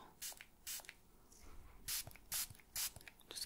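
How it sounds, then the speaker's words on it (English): A mist spray bottle spritzes onto hair in about five short, hissing bursts, close and quiet, with soft rustling between the sprays. "Kind of, like, spray that on the hair and then rub it in"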